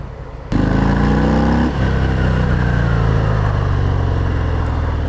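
A 2020 Harley-Davidson FXDR 114 with a massive V-twin engine, fired up close and loud, throttle blipped once sharply before settling into a heavy, steady rumbling idle.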